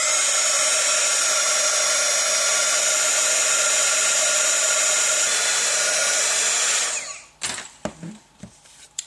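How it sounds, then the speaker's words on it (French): Heat gun blowing hot air to emboss a paper wedding invitation, a steady loud hissing whine for about seven seconds before cutting off, followed by a few light taps and paper handling sounds. "je vais maintenant pouvoir utiliser mon pistolet à air chaud pour révéler l'embossage"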